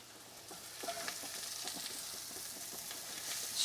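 Mushroom risotto rice being stirred in a hot pan, a steady close sizzle with soft scraping strokes throughout, growing slightly louder at the end.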